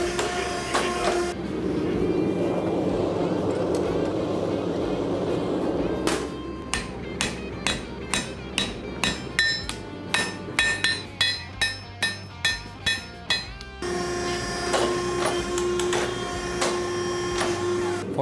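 A blacksmith flattens a hot, tapered steel bar on an anvil, landing a run of about a dozen sharp, ringing hammer blows in steady rhythm, close and loud between stretches of noisy forge hiss.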